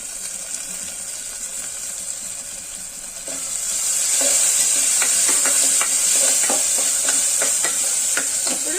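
Moong dal fries in a pan for rava pongal, giving a soft steady hiss that grows louder partway through, with a series of light scraping and tapping stirring strokes over the sizzle.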